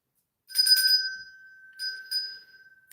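A bell rings with a bright, sustained metallic tone, struck in two bursts with a lingering ring between them, clear and fairly close with no talking.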